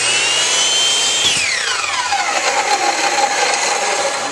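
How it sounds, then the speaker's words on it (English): A miter saw cuts through two wood pieces stacked together, a loud close whine that winds down in a long falling tone as the blade spins to a stop. "You can just cut them at the same time on the miter saw."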